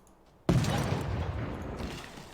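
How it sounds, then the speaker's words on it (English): Field cannon fire in Civilization 6 Gathering Storm: a sudden loud boom followed by a sustained rumbling barrage of blasts and crackle that keeps going, with no talking. "Field cannon, just keep firing"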